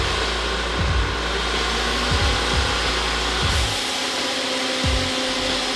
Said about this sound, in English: I'm spending another 6-7 hours sanding with the RO150